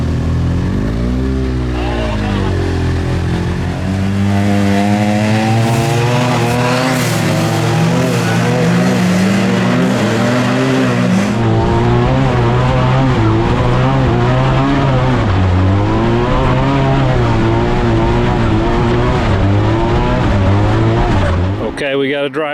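A Speed UTV Baja Bandit side-by-side is driven hard through whoops in second gear. Its engine roars loud and close with rising and falling revs as it pounds over the bumps, and voices talk over it at times.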